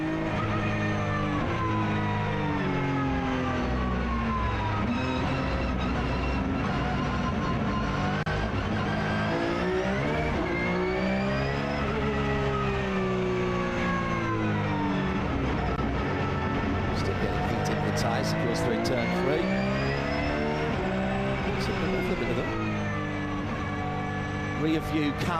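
Porsche flat-six 4.2-litre race car engine heard from onboard, a loud sustained drone rising and falling in pitch as the driver winds it up through the revs, with brief crackles near the end.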